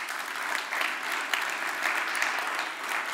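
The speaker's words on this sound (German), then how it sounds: "Noch bitte Applaus." Sustained applause from an audience at a Bavarian digital summit conference, dense and steady clapping throughout with no voices over it.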